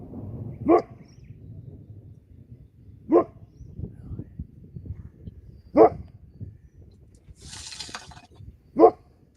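A dog barks at thunder four times at slow, even intervals over low background rumble, each bark sharp and moderately loud.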